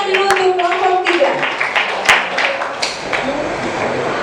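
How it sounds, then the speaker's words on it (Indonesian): A classroom of students clapping for group 3 in a lesson, a busy patter of hands mixed with chatter and voices all around. "Kita beri tepuk tangan dulu untuk kelompok 3."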